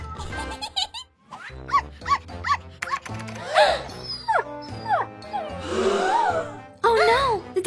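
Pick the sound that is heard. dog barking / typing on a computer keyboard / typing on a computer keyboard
dog barking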